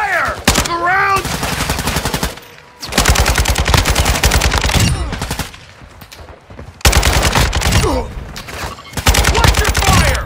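Automatic weapon fire rattles in loud, dense bursts during a Call of Duty Warzone DMZ match, with short pauses between volleys and occasional shouted voices in the mix.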